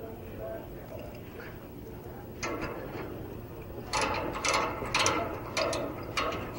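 Refrigeration valve packing on a Filtrine ES 450 drinking water chiller being loosened with a ratcheting wrench: a run of crisp metallic clicks grows louder in bursts over a steady background hum.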